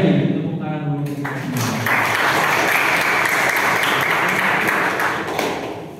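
A room of vocational high school students bursts into sustained applause, dense close clapping that swells and holds for several seconds before tapering off, with voices mixed in.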